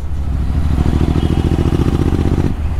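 A Royal Enfield Interceptor 650 fitted with Red Rooster exhausts rumbles at low revs with a close, loud, throbbing exhaust pulse that rises slightly in the middle and then settles.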